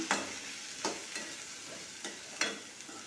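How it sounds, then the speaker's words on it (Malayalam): Green beans stir-fried with onion and green chili in a pan, with regular stirring strokes that scrape and rustle over a gentle, steady sizzle. "പകുതി ഉള്ളി വാടി വന്നതിന് ശേഷം നമ്മുടെ ബീൻസ് അതിലേക്ക് ഇട്ട് കൊടുക്കണം"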